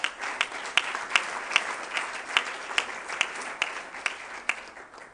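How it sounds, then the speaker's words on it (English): A conference audience at a technical university claps for sponsors who are not in the room. The applause is steady and moderate, with a few sharper claps standing out at a regular pulse and no voices over it. "Let's just clap for them in absentia."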